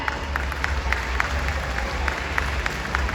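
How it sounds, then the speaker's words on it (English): An audience at a Christmas show at SeaWorld San Antonio claps steadily, a dense wash of applause with a few sharper claps standing out, continuing without pause. "How about a big round of applause for my brand new friend, Ada?"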